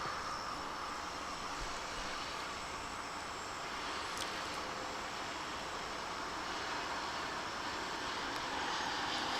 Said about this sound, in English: It's American Eagle Flight 5745, a CRJ 900 or 901.